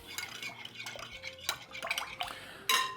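A dough whisk clinks and scrapes in a bowl of no-knead pizza bread dough with olive oil, giving close irregular knocks and stirring scrapes and a sharper clatter near the end.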